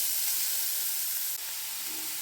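A bay leaf dropped into hot oil for carrot halwa, giving a loud, steady hiss of sizzling that stays close and continuous.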